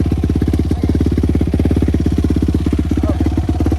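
A Yamaha YFZ450 ATV's single-cylinder engine chugs close and loud in a rapid, even thumping pulse at low revs during take-off.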